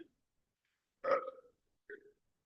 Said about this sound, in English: Burp that gas off your digestive system.